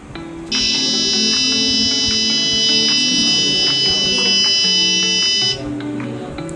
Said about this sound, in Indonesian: maka buzzer akan berbunyi selama 5 detik